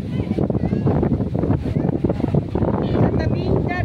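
Strong wind gusts across the microphone at the seaside during a group outing, a loud continuous roar with boat and surf noise underneath, while people talk over it.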